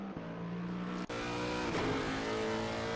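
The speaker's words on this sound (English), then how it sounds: "I heard that car revving for a moment" A race car with a suspected transmission problem revs its engine on the Nordschleife in an endurance racing video game: a steady, fairly faint engine drone whose pitch shifts partway through, with no talking.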